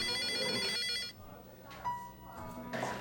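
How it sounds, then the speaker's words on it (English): A telephone rings in a scene from the 1994 film Discretion Assured, a bright electronic trill for about a second that then gives way to quieter room sound and faint voices. "she keeps getting phone calls from someone"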